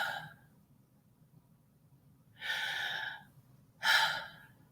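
A voice imitates the labored breathing of a dying person: two drawn-out, raspy gasping breaths, each about a second long, loud and close over a low background hum, with no talking.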